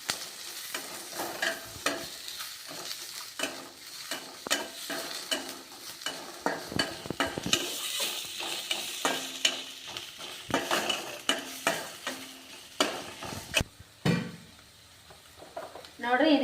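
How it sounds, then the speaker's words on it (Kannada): Garlic and onion frying in a pan for masala bath, a crackling sizzle broken by frequent stirring scrapes and clinks of a spoon, moderately close and fairly quiet, with brief pauses and a louder clatter near the end. "ಈಗ ಬೆಳ್ಳುಳ್ಳಿ ಒಂದು ಈರುಳ್ಳಿ ಫ್ರೈ ಮಾಡ್ಕೋಣ"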